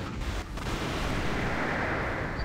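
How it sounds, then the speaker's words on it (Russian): A loud explosion in the Ulduar raid of World of Warcraft, a sustained roaring blast with a sharp burst near the start that rumbles on at steady volume, with no voices over it. "Сейчас взорвется."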